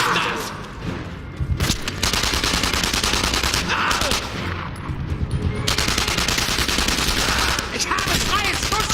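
Machine gun fire in the World War II shooter game Enemy Front, a loud, sustained stream of rapid shots with brief breaks and explosive thumps, with game voices shouting beneath.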